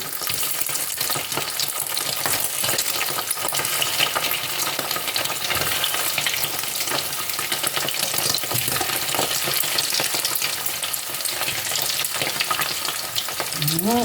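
Mackerel frying in hot oil, crackling and splattering loudly and steadily throughout with a dense, continuous sizzle and no talk.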